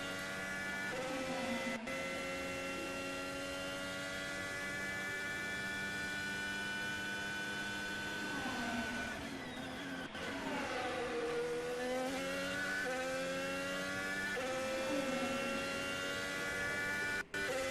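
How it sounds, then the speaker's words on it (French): Onboard engine of a Formula 1 car at practice for the 2023 Saudi Arabian Grand Prix: a steady, fairly faint high-pitched whine whose pitch climbs and drops as the car accelerates and slows. "Alors qu'on est avec Alex Albon en casque embarqué"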